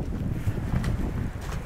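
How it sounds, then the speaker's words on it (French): Strong wind on a walking trail buffets the microphone in heavy, uneven gusts, a constant roaring rush with a few sharper bursts, in rain. "Il y a un vent à décorner tous les cocus de la terre"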